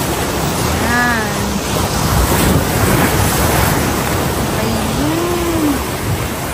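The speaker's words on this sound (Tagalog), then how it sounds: "Lakas ng alon." Strong ocean waves at Cheung Sha Beach, loud and continuous surf with heavy wind buffeting the microphone, a few faint whistling or bird-like tones drifting over the roar.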